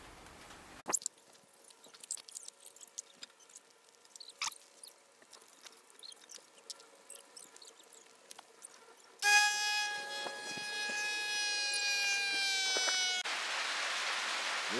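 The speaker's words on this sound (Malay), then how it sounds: "hujan lebat lagi guys" Steady rain patters on a surface with scattered drips, then a louder, denser downpour swells in partway through and keeps going to the end.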